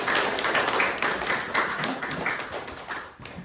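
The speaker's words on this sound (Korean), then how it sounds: "다시 한번 박수로 격려하겠습니다." A church congregation claps together during a Sunday worship service, a dense burst of applause that stays strong and then gradually thins and fades toward the end.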